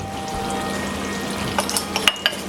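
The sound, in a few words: baking soda added to hot mixture, bubbling up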